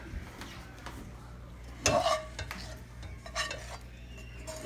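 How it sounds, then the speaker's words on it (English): A spoon scrapes and knocks against a pan while corn is stirred into a shrimp popper mixture, one sharp clatter near the start standing out over a soft steady background. "We're going to stir in our corn."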